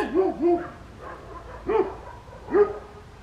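A dog nearby gives four short whining yelps with rising-falling pitch, spaced irregularly over a few seconds against faint outdoor background.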